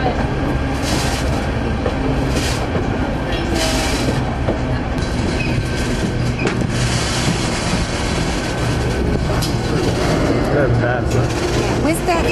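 An Alaska tourist train rolling along its tracks, a loud continuous rumble with rhythmic clacking wheels and occasional squeals, with voices talking over it.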